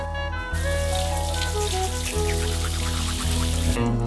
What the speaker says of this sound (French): J'y réfléchirai si vous allez tous me prendre une douche.